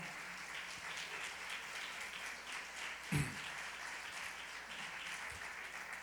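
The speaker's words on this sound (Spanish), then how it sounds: "usted le regala palmas una vez más al Señor" Church congregation clapping for the Lord during a Spanish-language sermon, steady faint applause throughout with one sharp louder clap near the middle.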